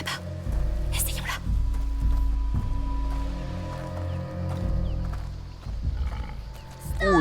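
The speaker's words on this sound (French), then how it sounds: "Oh les cochons!" Pigs squealing and grunting in the video game A Plague Tale: Requiem, loud and continuous with shrill cries and snorts, layered over game ambience with voices speaking nearby.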